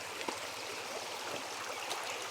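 Clear river water flows steadily and close by in a steady broadband rush with small gurgles, and no one talks over it.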